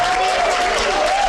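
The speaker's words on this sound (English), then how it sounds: "No shortage of the claps out there in the audience" Crowd at a StarCraft 2 esports tournament semifinal applauding Grubby, a steady, dense wash of clapping from a large audience with a faint tone underneath.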